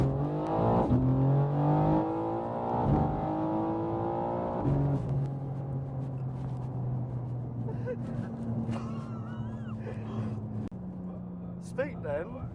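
A 750hp Evolve-tuned BMW G82 M4 engine pulls hard from inside the cabin, a loud, steady droning roar that rises and then holds, with people talking over it.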